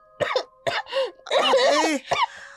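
Several raspy coughs and throat-clearing hacks come in short bursts from a sick woman in a dramatized story, close and distinct with brief pauses between them.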